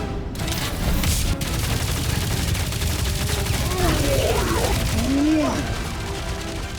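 Continuous gunfire from a Guardians of the Galaxy video game boss fight, a steady dense barrage running the whole time with bursts of game effects and a rising tonal whoosh near the end, mixed with music and effects.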